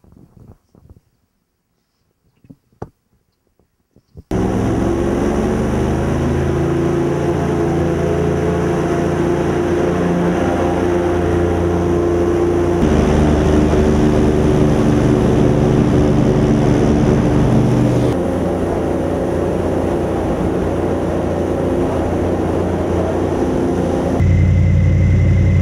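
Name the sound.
airboat with big propeller running on swamp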